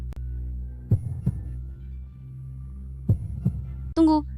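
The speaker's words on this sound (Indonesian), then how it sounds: "Detak jantung ini terlalu cepat." Heartbeat sound effect over a steady low hum: two paired thump-thump beats spaced a couple of seconds apart, dull and close, followed by a brief high vocal sound at the end.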